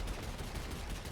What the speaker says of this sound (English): it's shooting me like from around the wall